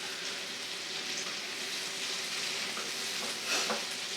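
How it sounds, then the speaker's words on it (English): Garlic green beans sautéing in a pan give off a steady, even sizzle and hiss, close by at moderate volume, with a slight rustle of stirring near the end and no voices. "You just want to saute these up."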